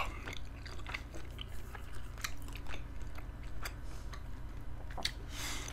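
Quiet close-up eating of chicken and rice, soft bites and wet chewing ticks scattered over a low background hum, with no talking.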